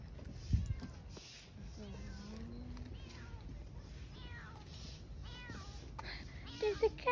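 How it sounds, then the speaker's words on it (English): A cat meows several times at a moderate distance on a street in Baguio City, with people talking nearby and outdoor background noise. "There's a cat there."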